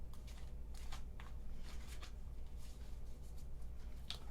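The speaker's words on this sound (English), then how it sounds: "So bear with me whilst I shuffle the cards one moment." Tarot cards being shuffled by hand, a run of soft, papery riffling and flicking bursts repeating at close range with no talking.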